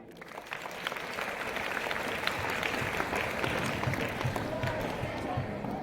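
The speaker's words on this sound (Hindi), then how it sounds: "एक बार उनके लिए तालियां।" Students are applauded at a Hindi Day school event, a hall full of steady, dense clapping that holds for several seconds with a faint murmur of voices underneath.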